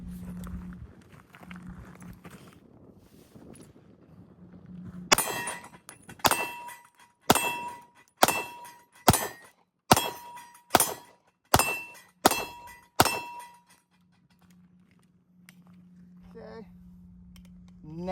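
A MAC 9 DS pistol fires Hornady Critical Duty 124 +P rounds, about ten sharp loud shots at a steady, unhurried pace, each ringing briefly before the next, with a low hum and faint rustling before and after.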